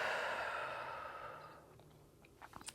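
A single slow, breathy exhale during a guided breathing exercise, close and soft, gradually fading out over about two seconds, followed by faint small mouth sounds.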